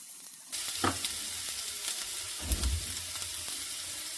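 Chopped vegetables including cabbage hit a hot pan for egg chow mein and sizzle loudly, with a few scraping stirs of a spatula over the steady frying hiss, close by and without talk.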